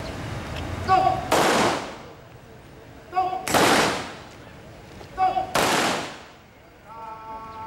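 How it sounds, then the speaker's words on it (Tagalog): Gun salute at a police memorial ceremony for a general's death anniversary: three loud volleys a couple of seconds apart, each a sharp crack with a rolling outdoor decay, with a voice calling out before each shot. "Y dale también gun salute."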